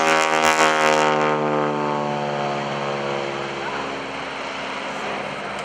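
A wing-walking stunt airplane's engine drones loud and close during an inverted pass at a lake airshow, its steady harmonic hum slowly sliding lower in pitch as the plane passes by.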